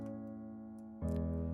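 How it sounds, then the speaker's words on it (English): Keyscape piano layer with a straight, simple, clear tone, sustained chords ringing steadily and softly before a new chord enters about a second in, no voices. "We got the keyscape here as one layer of the piano."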